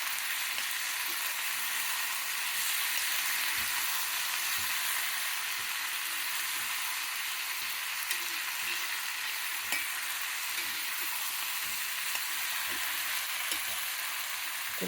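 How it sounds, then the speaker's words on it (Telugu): Ivy gourd mixture for chutney fries in a pan with a constant bright sizzle, while occasional soft scrapes of stirring sound close by. "ఇది మీద మొత్తం కలుపుతూ అన్నీ వేయించుకోవాలండి"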